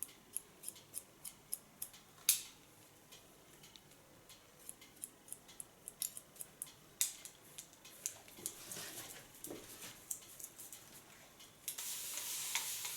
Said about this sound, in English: Take the hairs up in the natural line, just with point cut.